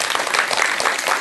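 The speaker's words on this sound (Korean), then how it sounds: "박수 한번 쳐드리세요, 박수." Audience applause at a Korean mentoring lecture on creativity, a dense, steady patter of many hands clapping together, fairly loud and close, sustained without pause for about a second.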